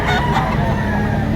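A rooster crows at a poultry market where fighting-type cocks are being sold, the call loud and close over a dense wash of crowd and background noise.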